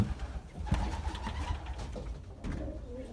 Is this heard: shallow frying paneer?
no